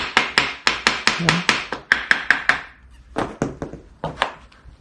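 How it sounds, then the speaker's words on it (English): A claw hammer strikes metal hard in quick, ringing blows, a rapid run of about a dozen, a short pause, then several more hits, loud and close, on a Jeep CJ-5. "I have a claw hammer even."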